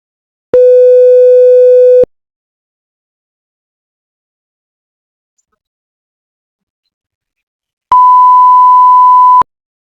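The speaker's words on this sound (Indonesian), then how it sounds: "Ini merupakan frekuensi 500 Hz." A pure electronic test tone from a hearing-test demonstration sounds for about a second and a half, then stops, and after several seconds of silence a second, higher-pitched steady tone follows.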